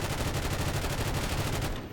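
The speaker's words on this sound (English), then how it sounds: "And just go at it with some gun here." Rapid automatic gunfire from a video game weapon aimed at a TARDIS, a fast, evenly spaced stream of loud shots that runs nearly two seconds before cutting off abruptly.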